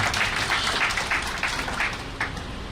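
Audience clapping at a Hindu Bhagwat Katha religious discourse, a loud continuous patter of many hands with some rhythmic pulses running through the whole short stretch.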